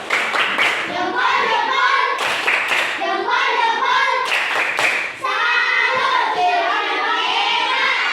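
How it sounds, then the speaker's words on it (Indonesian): Young schoolchildren in a classroom perform the rhythmic 'tepuk salut' clap together, loud bursts of patterned clapping in short groups with brief pauses, a few voices calling along. "Ya, tepuk salut untuk Cio."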